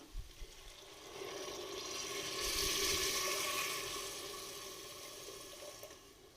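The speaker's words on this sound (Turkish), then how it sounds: "Kontrollü bir şekilde suyumuzu ilave ediyoruz" Water poured steadily into a pot of celery cooking in olive oil, a continuous close rushing stream that swells in the middle and then tapers off, with no talking.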